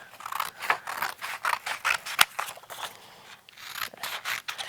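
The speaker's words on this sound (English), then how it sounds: "Okay, so I'm going to take my scissors." Scissors snip through paper while a 3D paper bicycle craft is cut out, giving a close, quiet run of rapid crisp cuts with short pauses between them.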